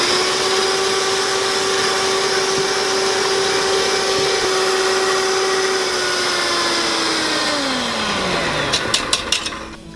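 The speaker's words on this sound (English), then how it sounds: "This is when you want to turn your beaters on high and start gradually adding your sugar" Electric hand mixer with beaters on high, whipping eggs and sugar for a dessert: a loud, steady motor whine that holds, then winds down near the end, followed by a few sharp clicks.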